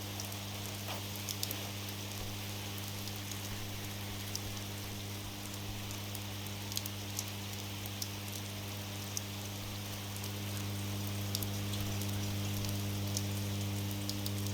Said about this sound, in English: It's like louder than the rainstorm.